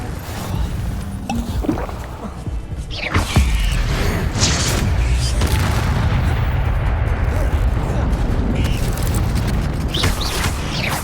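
An Incendio fire spell cast in Hogwarts Legacy erupts into a loud, roaring whoosh of flame. It follows a quieter stretch and then holds as a dense, sustained rumble until the end.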